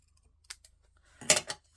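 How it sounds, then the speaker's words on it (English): Scissors fussy cutting paper for a Stampin' Up Paper Pumpkin Autumn Abundance craft project: two faint light snips, then a louder, closer crisp cut, set against near silence. "And we need to fussy cut it off."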